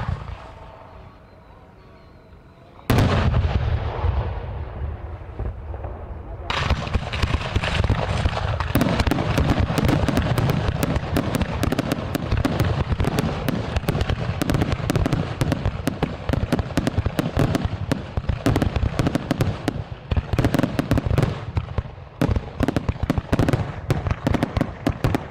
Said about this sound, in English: we're about to hear the cannon go off